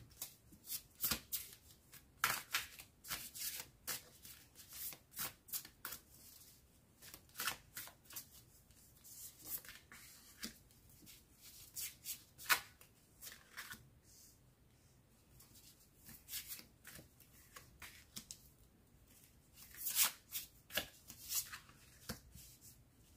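Tarot cards being shuffled by hand, with repeated riffling bursts and soft papery slaps in an irregular rhythm, close and fairly quiet, continuing throughout with no talking.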